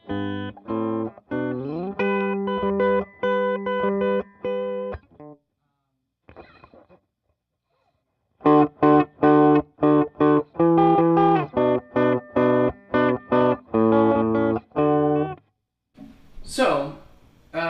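Electric guitar picking tenth-interval patterns, steady plucked notes in two phrases separated by a pause, ending with a brief string slide.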